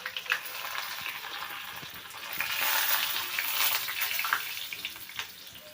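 Finely chopped garlic dropped into hot oil with already crackling mustard seeds for a bitter gourd and dal dish gives a steady, moderately loud sizzle that swells in the middle and holds throughout, with no talking.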